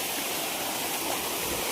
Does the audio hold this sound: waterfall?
yes